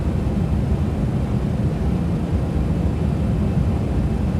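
Steady, loud engine roar and rushing wind noise of a Boeing 737 landing in X-Plane 12, a continuous broadband drone with no breaks and no voices.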